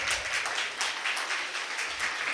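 A crowd gathered for a religious discourse claps in a sustained, fairly loud burst of applause, many hands overlapping with a slight rhythmic pulse and no voices over it.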